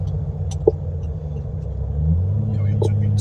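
A Holden LC Torana GTR XU-1 classic car engine, driven after sitting 36 years, rumbles steadily from inside the moving vehicle through bends, its low drone rising slightly as it revs up near the end, with faint clicks.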